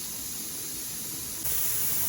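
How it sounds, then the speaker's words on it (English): A pressure canner loaded with black bean soup vents steam in a steady, loud, continuous hiss that grows stronger partway through, with no talk. "It is steaming like a freight train right now."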